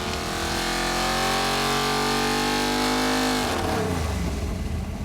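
A GM 572 big-block crate engine runs on a dyno with nitrous, pulling hard with a loud rising roar that climbs steadily, then cuts off abruptly and falls away in a coasting wind-down.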